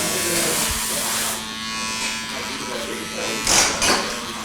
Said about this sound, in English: I'm going to just do clipper over comb and kind of debulk everything